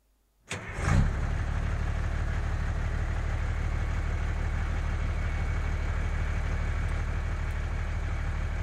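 A vehicle engine cranks and catches after a brief silence, then settles into a steady, loud idle that runs on alone for several seconds, used as a sound effect in a role-play session set in a 1983 long-haul trucking game.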